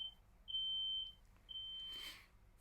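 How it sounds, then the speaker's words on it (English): A home smoke alarm chirping indoors, three sustained high-pitched electronic beeps of uneven length separated by short gaps, fairly quiet and heard alone with a brief rustle near the end. "That was my smoke alarm."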